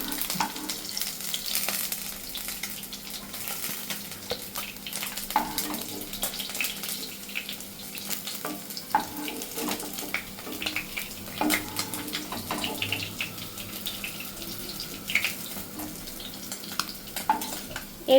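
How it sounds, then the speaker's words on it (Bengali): Pieces of fish frying in hot oil in a pan, cooked for a Bengali fish shukto, give a steady close sizzle and crackle throughout, with scattered clicks and scrapes of a utensil stirring or lifting the fish. "মাছগুলো কিন্তু খুব ভালো করে ভাজা হয়ে গেছে"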